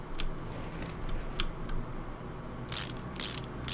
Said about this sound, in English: So go ahead and get this tire off.